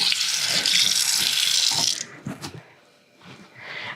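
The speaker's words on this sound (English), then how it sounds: "I'm gonna wash my fingers. Constantly washing my fingers, sorry." Running tap water splashes over fingers at a kitchen sink, a loud steady hiss for two seconds, then it shuts off, leaving a few soft clatters and rustles before water briefly runs again more quietly.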